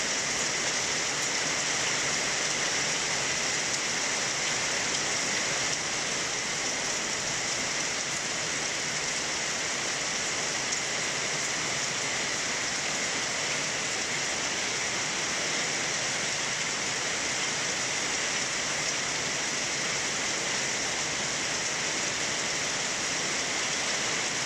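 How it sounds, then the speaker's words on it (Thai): Heavy storm rain in Loei Province, Thailand, pours down steadily and loudly as a dense, unbroken hiss of water on surfaces for the whole stretch, with no voices. "ฝนมาจนได้ครับจังหวัดเลยอำเภอเอราวัณจังหวัดเลย"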